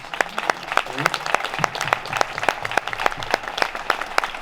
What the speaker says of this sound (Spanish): esta mañana quiero dar un aplauso a los padres de los infantes